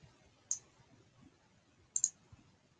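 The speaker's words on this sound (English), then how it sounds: "click on picture." A computer mouse clicking while inserting a picture into a text template, one crisp click followed by a quick double click, close and quiet over faint room noise.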